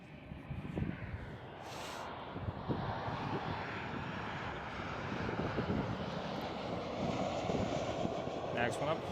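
A KLM Boeing 737 passes at Amsterdam Schiphol, its engines a steady, fairly faint broadband roar held throughout under background noise and occasional talk.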